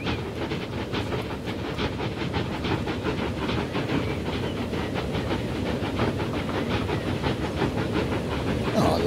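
A train runs along the other line on the Transport Fever Greater London map, giving a continuous rumbling clatter with regular rail-joint clicks and a steam-like hiss, moderately loud and unbroken for the full length.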